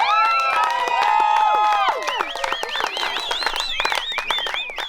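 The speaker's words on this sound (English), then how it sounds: "Lots of cheering again." Wedding guests at a ceremony cheer after the couple's kiss, a loud, close burst of high whoops, shouts and whistles layered over scattered clapping that keeps rising and falling throughout.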